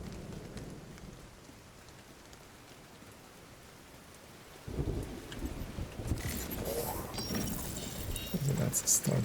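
Rain begins in a video game: a quiet backdrop gives way abruptly to a loud, steady wash of rainfall with low rumbles that keeps building to the end.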